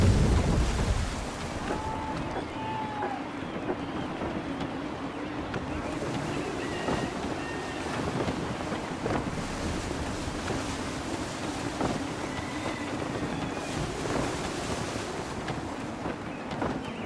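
Wind gusts and ocean waves wash around a sailing ship in Assassin's Creed 3, a loud, constant roar with splashing surf, occasional creaks and faint calls in the background.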